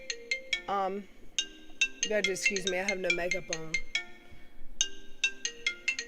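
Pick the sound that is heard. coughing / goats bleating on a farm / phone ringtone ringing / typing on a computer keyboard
phone ringtone ringing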